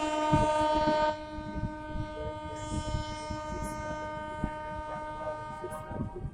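The 22221 CSMT Rajdhani Express rolling slowly through Gwalior station, heard from on board: a strong horn tone at the start, then a steady rumble and irregular wheel clacks over the rails, close and continuous.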